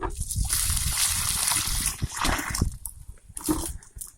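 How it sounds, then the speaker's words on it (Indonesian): Water poured onto dry soil gushes and splashes loudly and steadily, then breaks into uneven sloshing and trickling bursts near the end. "kita harus siram terlebih dahulu dengan menggunakan air"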